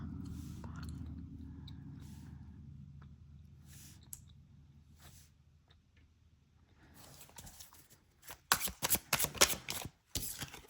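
Tarot cards are picked up and handled by hand: soft, faint shuffling at first over a low hum, then a quick run of crisp, close riffling clicks near the end.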